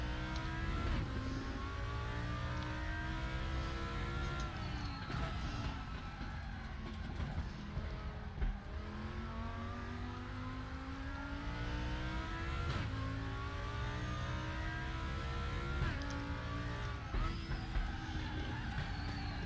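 GT2 Audi race car lapping Motorsport Arena Oschersleben in a racing video game, engine droning steadily with small throttle blips and revs rising and falling through a triple left-hand corner, continuous and loud.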